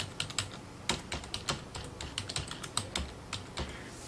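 Keys clacking on a computer keyboard in quick, irregular bursts, close and crisp with short pauses between runs of strokes, no voices.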